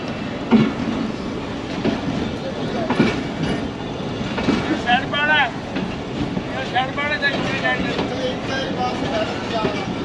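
Seen from inside a passenger coach of the Ravi Express on a classic branch line near Shorkot, the train rumbles along with clickety-clack and occasional wheel squeals, and voices murmur in the carriage.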